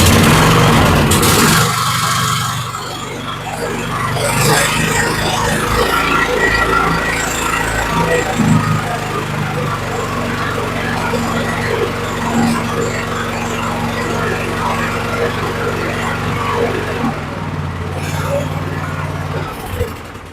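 Cub Cadet LT1045 lawn tractor engine idling at half throttle with full choke after fuel line and carb replacement, a steady, continuous mid-range hum running throughout with a brief louder burst at the start and a slight dip near the end.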